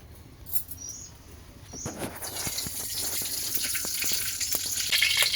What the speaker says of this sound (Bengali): কড়াইতে ঘি দিয়ে নিব